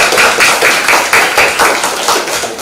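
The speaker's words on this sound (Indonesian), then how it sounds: "Ya, berikan tepuk tangan untuk" A classroom group claps in brisk, loud, rhythmic bursts after a student art presentation, close and continuous for a few seconds.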